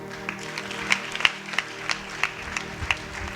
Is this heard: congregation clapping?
yes